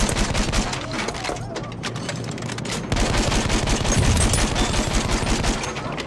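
Enemy machine gun fire in Battlefield 1, a dense, continuous rattle of automatic bursts with crashing impacts, loud and close throughout, heavier in the second half.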